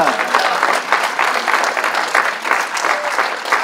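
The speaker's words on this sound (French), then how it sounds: "on peut applaudir Jésus." A church congregation applauds in a steady, dense wash of clapping that stays fairly loud and even, with a faint voice briefly audible underneath.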